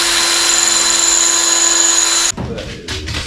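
A power drill whines loudly and steadily while boring a hole into a BBQ food trailer in snowy conditions, then stops abruptly and is followed by quieter clattering handling sounds.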